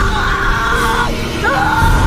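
A woman screams hysterically in a horror film about a corpse washer, a loud sustained shriek that wavers and breaks, then rises again.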